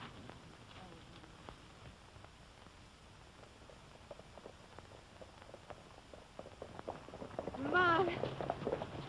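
Horses' hooves clip-clop at a riding pace in a dry western setting, a loose rhythmic patter that grows louder, with a voice briefly calling out near the end.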